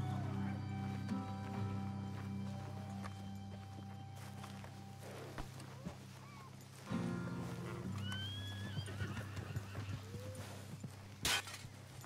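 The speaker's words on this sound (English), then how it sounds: "Why did my horse run away?" A horse in Red Dead Redemption 2 neighs and whinnies over steady game ambience. Hoofbeats clip-clop beneath it, a few bird chirps sound near the end, and a sharp crash punctuates the close.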